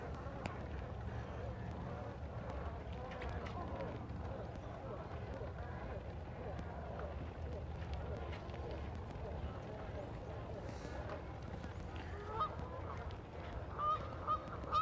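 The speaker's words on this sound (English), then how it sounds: "There's a lot of birds out here." Many geese honking and calling outdoors at a bass fishing spot, a dense continuous flock chorus at moderate distance, with someone talking faintly over it.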